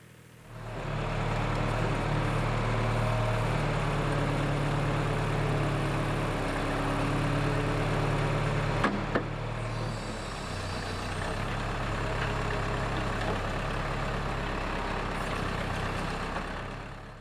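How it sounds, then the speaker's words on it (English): A tractor grading and leveling ground for a house foundation runs with a steady, loud, low engine drone and rumble throughout, dipping briefly partway through before continuing at the same level. "Here we are grading the spot with the tractor to make sure it's all level"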